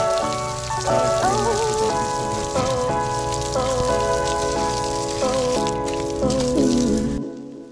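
Water from a hose rinses down the gravel and stones of a newly built pondless waterfall in a small backyard, a steady rain-like spray heard under loud background music.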